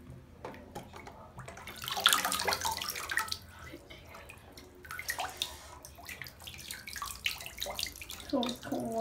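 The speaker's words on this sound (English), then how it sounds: "Cold water is what this tub is filled with," Cold water sloshing and splashing in a filled tub during play with a toy boat, irregular bursts of splashing and trickling at close range, with some faint voice sounds.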